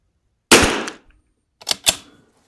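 Two or three sharp gunshots from a CZ457 rifle during group shooting, one loud crack first, then a quick pair about a second later, each with a short decaying tail.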